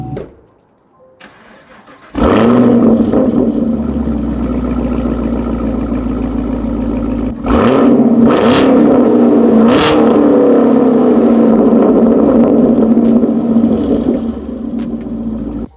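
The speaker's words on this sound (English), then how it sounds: "It is an AWE Touring Cat-Back Exhaust." A car engine starts and settles into a deep, rumbling idle, then revs up sharply a few times with a loud, throaty note through an AWE Touring cat-back exhaust.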